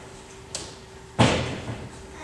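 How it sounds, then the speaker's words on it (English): A door closes in an audiobook sound effect: a light knock or latch click, then a solid thud with a short reverberant tail, close and clear with no talk. "and closed the door"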